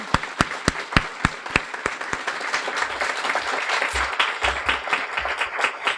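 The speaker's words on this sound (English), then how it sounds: "I'd like to ask them to stand and give them a round of applause" A graduation audience at Guiding Eyes applauds staff members standing up, with a few distinct loud claps at first swelling into continuous, fairly close clapping.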